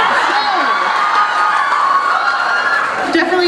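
A convention audience at a Dragon Con Q&A cheers and whoops loudly, a sustained crowd roar with mixed shouting voices filling the whole moment.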